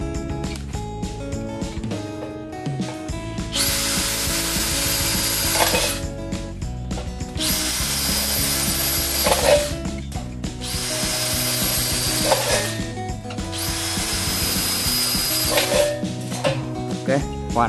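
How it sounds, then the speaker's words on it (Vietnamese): Four loud bursts of drilling from a Bosch GSB18V-535C brushless cordless drill, each a few seconds long and separated by short pauses, sit close up, with someone talking during the gaps. "Ok, khoan khá là nhanh."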